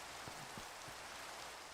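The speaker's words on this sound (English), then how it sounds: "Oh, it's raining." Steady rain falling as an even, hissing wash, with a few soft low patters near the start and no voices.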